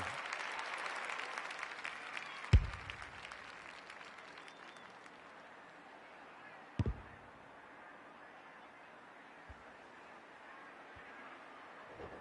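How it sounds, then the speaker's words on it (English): A stadium crowd roars and applauds in the AFL 26 football video game, the cheering loud at first then gradually fading, with two sharp thuds along the way. "The crowd noise tells you all you need to know."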